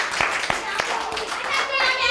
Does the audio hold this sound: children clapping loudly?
yes